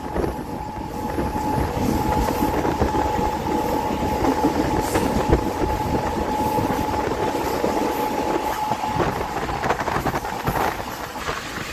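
Tripura local demo train between Agartala and Sabroom rolling steadily on its rails, a continuous loud rumble with rhythmic clatter and a sustained tonal whine throughout, no voices.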